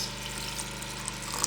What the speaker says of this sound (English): and then I'm going to be putting water into this.